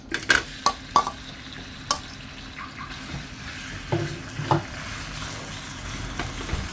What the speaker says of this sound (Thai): เดี๋ยวยายพนก็ผัดหมูก่อนค่ะ